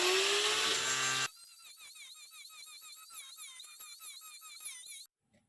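An angle grinder carves a sumac tree root: a loud, high whine for about a second, then a quieter, wavering, warbling grind with scraping pulses for several seconds before it stops abruptly.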